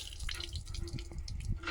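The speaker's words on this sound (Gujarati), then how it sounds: "આવ્યું પાણી. કેટલું બધું પાણી આવ્યું." Water pours and drips steadily at a Shiva temple, the Gupteshwar Mahadev Temple in Bhutsar, a continuous splashing flow filling the short clip at moderate loudness, with faint background voices.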